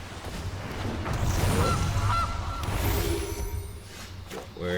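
Goose honks from the video game MTG Arena, several short nasal calls over about five seconds, mixed with game sounds and moderately loud.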